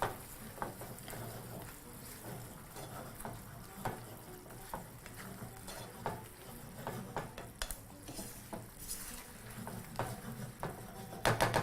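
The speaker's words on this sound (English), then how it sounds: "Give it a nice thorough mix." A wet beef fry seasoned with black peppercorns and salt is stirred in a pan, with steady sizzling under repeated scraping and clinking of a utensil against the pan throughout.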